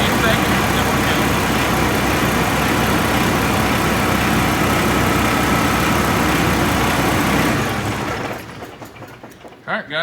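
A Paccar truck diesel engine idles loudly and steadily up close, then cuts off near the end, leaving a few faint clicks.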